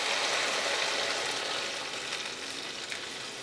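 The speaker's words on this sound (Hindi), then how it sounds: "अब हम डाल देंगे यहाँ पे 1 कप पानी।" A cup of water hits fried masala in a pan, giving a loud, broad hiss and sizzle that gradually settles to a steady bubbling fry.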